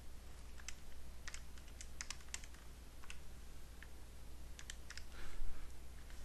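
Equations typed into a graphing calculator, producing light scattered button clicks in small clusters over a steady low hum and soft background hiss.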